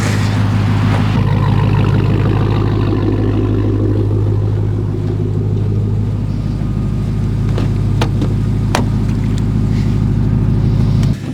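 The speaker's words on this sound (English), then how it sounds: "warming up the truck." Truck engine warming up, idling steadily with a deep, constant low rumble close by, loud and unbroken with no talk and only a few faint clicks over it.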